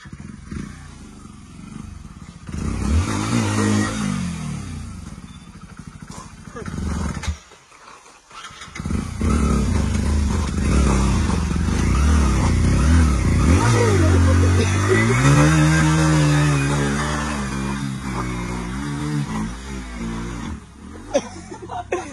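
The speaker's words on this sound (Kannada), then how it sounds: "Bike stunt." A motorcycle engine revs and labors through an off-road stunt on a muddy monsoon trail, loud and close, with a brief drop in sound midway before the throttle surges back into sustained rising and falling revving.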